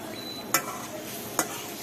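Fried salted hilsa fish is lifted out of a wok over a faint steady sizzle, with two crisp metallic scrapes of a utensil against the pan about a second apart.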